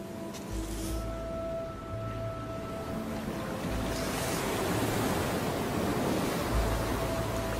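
Ocean waves wash onto a beach where sea turtles nest, a broad continuous roar of surf rising and falling, with low rumbling swells and wind noise throughout.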